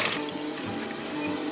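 A sewing machine stitches PALS webbing in a continuous, fast mechanical whir and chatter, close and steady throughout.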